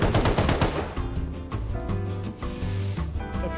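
A shotgun trap fires in the survival game Rust, opening with a loud, rapid burst of close blasts that fades into a steadier, ringing tonal background with no talking.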